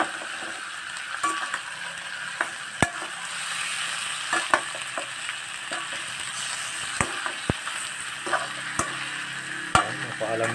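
Pork hock adobo stirred in a pot after two hours of simmering: steady sizzling and bubbling with scattered sharp utensil clinks against the pot, close and continuous, with no talking.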